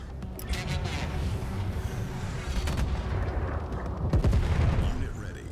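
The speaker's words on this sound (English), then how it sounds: "One salvo of artillery fire taking out the turret." An artillery salvo fires in the real-time strategy game Tempest Rising, a rolling series of heavy booms and blasts building to a louder cluster near the end, with a voice talking over it.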